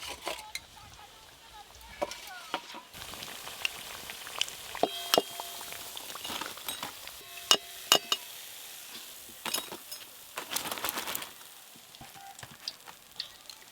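Battered banana-flower chops and potato fritters fry in oil with a soft, steady sizzle, broken by frequent clinks and clatters of utensils against pans and bowls nearby.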